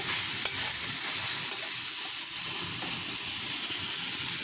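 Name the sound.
meat braising and pointed gourd frying in pan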